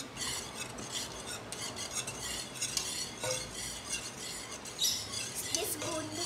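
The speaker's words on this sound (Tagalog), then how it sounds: "At halu-haluin na natin to." A spoon stirs a thick cornstarch mixture for maja blanca in a pot, giving a steady, close scraping and rubbing rhythm with occasional metallic clinks against the pan, fairly quiet and without talk.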